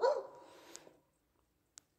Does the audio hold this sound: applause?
no